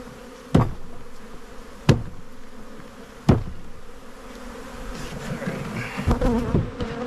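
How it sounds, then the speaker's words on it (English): A swarm of honey bees is dumped from an inverted swarm trap into a new hive, a loud, continuous buzzing drone punctuated by three sharp knocks as the trap is struck, with the humming growing busier toward the end. "I'm just going to dump all the bees into their new home."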